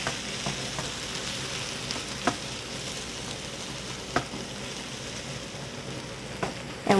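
Brussels sprouts fry in a pan with a steady, loud sizzle while a utensil stirs them, giving a few sharp scraping clicks spaced across the crackle.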